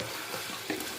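Chicken curry frying in a pan while being stirred, a steady close sizzle with a soft scrape of the spoon partway through, alone without talk.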